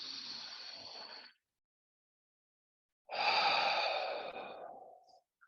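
Big, calm exhales during a guided meditation: two long, soft, breathy whooshes close to the microphone, separated by nearly two seconds of silence.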